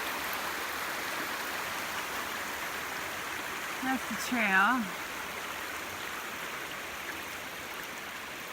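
Steady broadband rush of a wide creek flowing on the Georgia Pinhoti Trail runs throughout, with someone briefly speaking over it midway.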